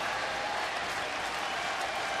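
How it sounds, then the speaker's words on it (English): A big baseball crowd at Minute Maid Park stands and applauds pitcher Andy Pettitte, a dense, steady roar of clapping and cheering, loud and unbroken throughout. "Big crowd standing for Pettitte."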